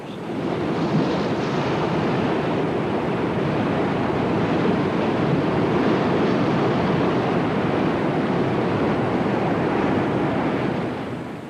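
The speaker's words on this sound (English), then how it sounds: "The cataracts above the Inga Barrage proved some of the most intimidating, with 30 and 40-foot standing waves." Rapids on the Zaire River above the Inga Barrage churn with huge standing waves, a dense, continuous roar of rushing water and surf, loud and steady with wind noise and no voices.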